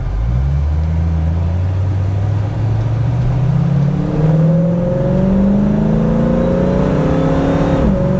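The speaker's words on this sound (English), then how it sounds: "It is a great sounding exhaust setup." Deep exhaust rumble from a 1968 Ford Mustang's 289 V8 with an X-pipe and MagnaFlow mufflers, rising steadily in pitch as the car accelerates, loud and close, with a smooth burbling tone throughout.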